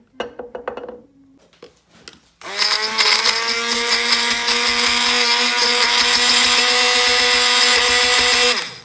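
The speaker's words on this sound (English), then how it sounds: "Give it a little blitz and then just add a little drizzle of oil." A food processor or stick blender blitzes curry paste ingredients for a lamb massaman curry, starting after a few soft clinks and then running as a loud, steady motor whine for about six seconds.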